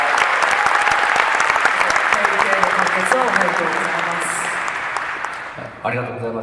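Audience applause fills a Comic Con panel room in New York for manga creator Hiro Mashima, a dense, steady roar of many hands clapping that fades toward the end as a voice begins speaking.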